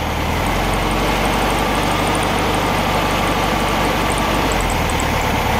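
A classic VW Beetle engine idles in a steady, loud, close low rumble with an even rhythmic chug, continuous and alone, with no talking.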